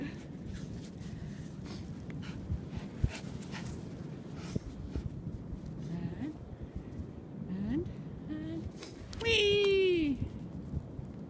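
A puppy pants softly and lets out a few high whimpers, ending in a longer whiny cry, close by and fairly quiet.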